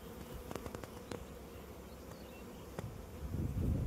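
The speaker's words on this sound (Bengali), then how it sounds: "মৌমাছি দেখতে পাচ্ছি" A swarm of honey bees hums around hives beside flowering mustard fields, a continuous close buzz with a few sharp ticks that swells louder toward the end, with no speech.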